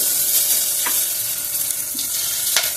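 Mustard seeds, asafoetida, turmeric and curry leaves sizzle and crackle steadily in hot oil for a Tamil pepper tamarind curry (milagu kuzhambu), a loud, close, continuous frying hiss with occasional sharper pops and no talking.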